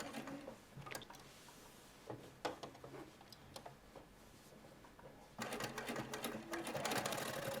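A sewing machine stitches a row of plain top stitching on a shirtwaister dress, running in short intermittent bursts that grow into a steadier, louder run near the end, with no talk.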